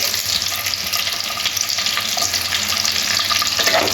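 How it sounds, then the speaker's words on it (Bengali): Minced garlic and onion fry in hot oil for chicken manchurian, producing a dense, continuous hiss and crackle at close range with faint stirring underneath, no voices. "পেঁয়াজটাও হালকা করে নাড়াচাড়া করে ভেজে নেব।"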